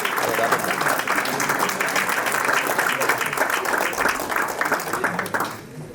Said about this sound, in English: Please give a round of big applause.